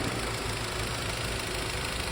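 A small Audi TT with a 1.0-litre TFSI engine runs steadily, giving a continuous, fairly loud broadband hum and rumble throughout with no talk over it.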